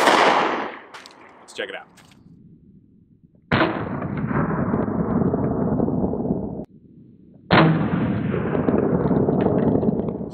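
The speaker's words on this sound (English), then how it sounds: "165 grain Federal 40 Smith & Wesson coming out of a Glock 23." Glock 23 firing 165-grain Federal .40 S&W rounds at an RTS Tactical AR600 Level III steel armor plate outdoors: two loud, sharp shots a few seconds apart, each with a long rolling echo, after a brief spoken line.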